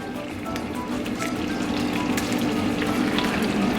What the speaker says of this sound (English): we're going to melt a little bit more butter